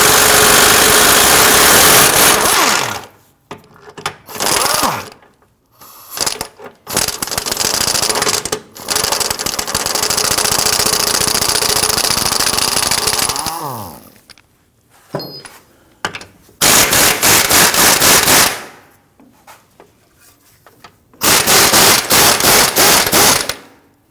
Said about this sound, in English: Using an 18mm socket, let's loosen and remove these.